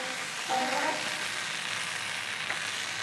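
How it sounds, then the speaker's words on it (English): A stick of butter melting on a hot Blaze griddle with a quiet, even sizzle and a brief scrape near the start. "I just like to take a stick of butter like this here, get it nice and oily"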